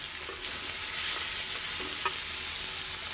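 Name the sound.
fish being fried and stirred for fish bhuna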